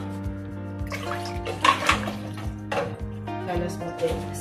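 Cold water pours and splashes into a pot to cover glass jam bottles for sterilizing, in a home kitchen making strawberry jam, with a rhythmic low hum beneath and a voice talking over it.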